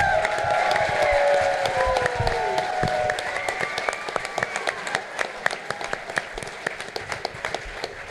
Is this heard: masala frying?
no